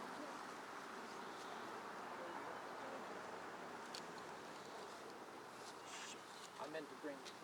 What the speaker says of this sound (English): You got probably 100 bees on you.